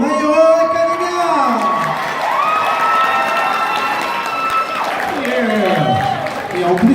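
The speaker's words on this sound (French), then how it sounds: "Veuillez applaudir Bakugo de My Hero Academia." An audience at a Japanese culture convention's cosplay contest applauds and cheers for a Bakugo cosplayer from My Hero Academia, loud sustained clapping with whoops and shouts, under a host's amplified voice.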